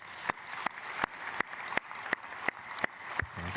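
A church congregation at a Sunday worship service claps to welcome newly registered members, the claps falling together in a steady, evenly spaced rhythm of sharp, distinct beats that continues throughout.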